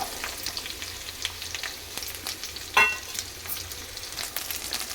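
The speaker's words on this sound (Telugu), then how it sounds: "జీలకర్ర, ఆవాలు వేసాను. ఇప్పుడు పొట్లకాయ ముక్కలు." Ridge gourd pieces fry in a cumin and mustard seed tempering, a steady close sizzle with light stirring scrapes and one brief sharp clink near the middle.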